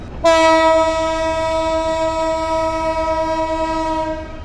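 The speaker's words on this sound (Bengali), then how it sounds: "একসঙ্গে 2টা ট্রেন বের হয়ে যাচ্ছে এখন চট্টগ্রাম রেলওয়ে স্টেশন থেকে" A local train's horn sounds at Chittagong railway station as two trains depart, one loud, steady, sustained blast held for about four seconds, close and alone.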